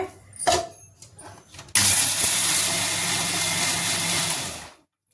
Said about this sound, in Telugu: కొంచెం కొంచెం వేసుకుంటా మెత్తగా మిక్సీ పట్టుకుందాం.